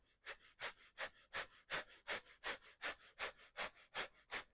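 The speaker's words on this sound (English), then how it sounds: "Continue breathing." Slow, rhythmic breathing during a yoga stretch, about a dozen soft, close breaths at an even pace, quiet and alone with no talking.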